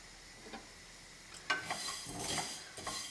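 Whole coriander seeds toasting in a hot dry pan while being stirred, with close scraping, light rattling and soft sizzle in scattered bursts, no talking.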